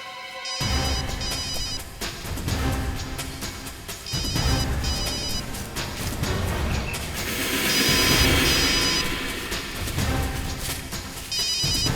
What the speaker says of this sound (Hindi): दया का फोन बज रहा है।